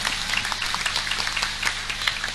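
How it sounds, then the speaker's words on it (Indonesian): Applause from a crowd at a humorous Islamic sermon event for the Miftahul Ulum Polaken pesantren, a continuous patter of many hands clapping at moderate level over a low background hum. "Tepuk tangan untuk pesantren Polaken."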